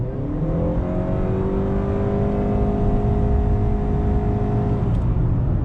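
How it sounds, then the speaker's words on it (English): A 2020 Honda Accord Hybrid Touring accelerating from inside the cabin: a steady, loud engine drone with a rising whine that holds throughout, with no talk over it. "But let me go ahead and get on throttle again."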